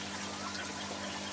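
Water flowing steadily through an aquaponics barrel drum filter packed with netting, a constant moderate rushing and trickling wash with a low pump-like hum, no voices.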